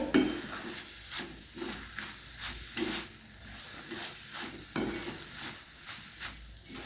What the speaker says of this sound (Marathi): दोन मिनटंच आपण या मसाल्यामध्ये कुक करून घेणार आहे शिजून घ्यायचं आहे